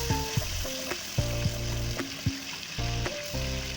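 Ginger garlic paste sizzles steadily in hot ghee in a karahi for beef karahi, a close continuous frying crackle broken by repeated clangs of a spoon against the pan.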